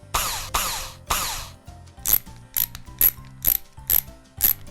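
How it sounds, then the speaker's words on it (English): Cartoonish ratcheting and clicking: three broad rasping bursts, then a quicker run of short mechanical clicks with bright pings, like a part being cranked tight. "We'll install it on the roof and screw it on."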